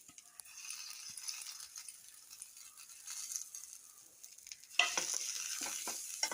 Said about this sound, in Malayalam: നന്നായി ഒന്ന് ബ്രൗൺ കളറാവുന്ന വരെ ഒന്ന് മുരിച്ചെടുക്കാം കേട്ടോ.